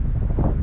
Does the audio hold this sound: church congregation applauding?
no